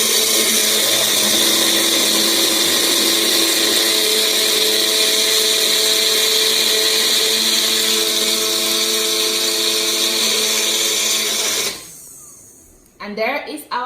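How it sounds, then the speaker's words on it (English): A blender grinding a dry pepper spice mix for suya runs loud and steady with a high, even whine for about twelve seconds, then cuts out, leaving a few faint clatters. "we just blend."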